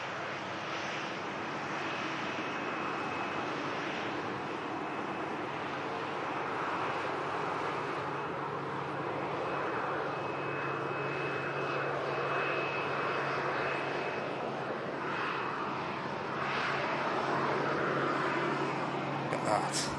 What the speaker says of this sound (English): you can see the Emirates Airbus A380 turning onto